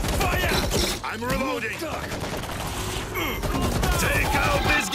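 Dense gunfire bursts and volleys ring out in World War Z's Moscow co-op chapter, continuous and loud across the whole stretch, with shouted voices mixed in among the shots.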